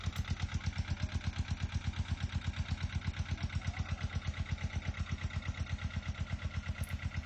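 The Water Witch, a 28-foot trip boat built on a small narrowboat hull and cruising the Lancaster Canal, has an engine running at a steady idle-like chug, an even pulsing throb that repeats evenly and carries on alone.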